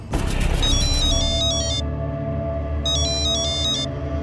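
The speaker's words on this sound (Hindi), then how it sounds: "उस दिन हमको फोन आया साहब गजरा भाभी का।" A phone rings with a repeated electronic trilling tone in two short bursts, heard over a swelling music bed.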